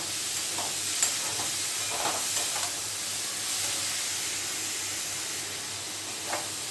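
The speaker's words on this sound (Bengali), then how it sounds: "আরেকটু কষিয়ে নিচ্ছি ডালটাকে সব কিছুর সাথে আরেকটু কষিয়ে নিচ্ছি" Arhar dal being sautéed with spices in a pan gives a steady, soft sizzle and hiss, with a few brief clinks of stirring on top.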